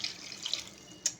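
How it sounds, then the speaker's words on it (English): Water from a tap splashes briefly into a pan used for boiling liver, a faint trickle with a few small splashes and one sharper splash near the end. "I add a little bit of water"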